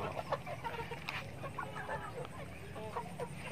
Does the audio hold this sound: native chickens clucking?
yes